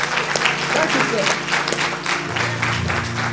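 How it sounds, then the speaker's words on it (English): Church congregation at St. Luke AME Church applauding the choir musicians, steady loud clapping throughout with organ or music tones underneath and voices mixed in. "Give a hand of clap to our outstanding musicians"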